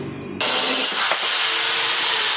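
Power tool cutting through a metal part during an electric fan repair, a steady loud whine starting abruptly after a short quieter hum and running continuously to the end.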